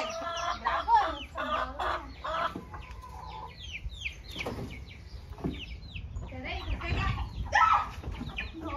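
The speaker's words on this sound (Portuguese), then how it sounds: "Vamos ver as galinhadas como tá." Chickens clucking close by in a backyard coop, a busy run of short repeated clucks and squawks, with a brief flutter of wings, while a person speaks intermittently.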